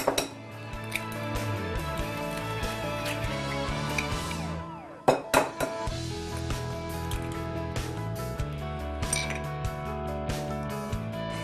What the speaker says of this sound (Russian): И взобьем 3 яйца.